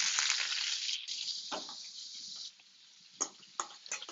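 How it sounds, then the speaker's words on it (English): Halloumi sizzles loudly in a hot pan, a bright hissing fry that fades after a couple of seconds into softer crackles and a few sharp pops. "Okay, our pan is ready. So we take our halloumi right in there."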